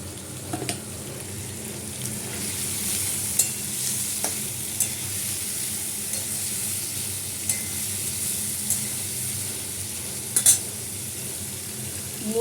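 Boiled potatoes dusted with turmeric stir-fry in a pan, giving a steady close sizzle throughout with scattered sharp scrapes and taps of a spatula against the metal.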